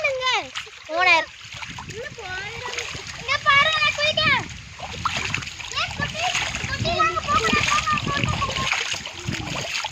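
Lively splashing and churning water fills a village swimming pool beside a well, close by and continuous, while children shout and chatter excitedly over the top.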